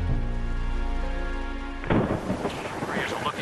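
Thunder and heavy rain from a severe storm, opening on a loud tonal music-like drone that gives way to a close, broad roar of downpour with rumbling thunder, loud throughout.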